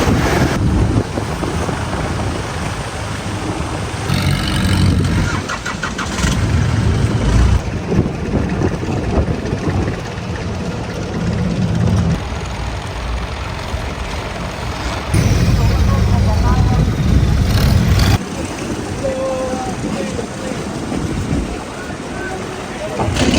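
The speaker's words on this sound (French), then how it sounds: "je coupe ici parce qu'il y a beaucoup de vent." Strong wind on a beach in Thailand buffets the microphone in heavy, uneven gusts, with a rumbling low roar and faint background voices.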